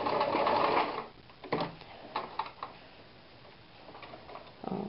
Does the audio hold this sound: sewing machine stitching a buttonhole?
yes